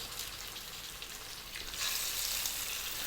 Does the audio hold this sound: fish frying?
yes